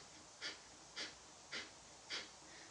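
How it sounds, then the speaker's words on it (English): Kapalabhati yoga breathing, with four sharp forceful exhales puffed out through the nose at an even rhythm about half a second apart, each a short hissing snort, close and clear over quiet room tone with no talking. "So with Kapalabhati, it's like this, it's going to sound like a choo-choo train. You're going to be breathing in through the nose and out through the nose."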